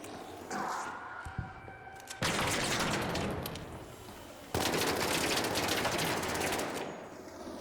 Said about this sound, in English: Just riddle him with bullets.